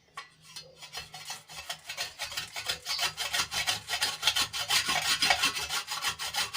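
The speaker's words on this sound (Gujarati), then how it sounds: "અહીંયા સાબુને આપણે ખમણી લેવાનો છે" Bar soap scraped against a kitchen grater in rapid, repeated rasping strokes, loud and close, growing steadily busier and more intense with no voices.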